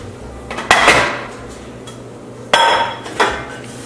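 Metal pans clattering as a basic pan full of holes is rigged with a second pan set inside it to form a makeshift double boiler; two close, separate bursts of clanking with handling in between.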